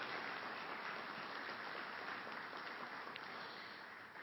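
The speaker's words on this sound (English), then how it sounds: "So if y'all would give Ken a nice round of applause." Steady applause from an audience at a municipal election candidate forum in Sylacauga, dense even clapping filling the room for about four seconds with no voices over it, tapering slightly at the end.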